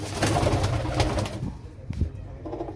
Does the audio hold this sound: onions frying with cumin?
no